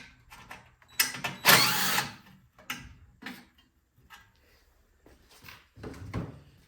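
Removing the shroud from an Ariens snow blower engine: close clicks, knocks and a burst of scraping plastic rustle as the cover is worked loose, followed by scattered lighter taps and handling clatter.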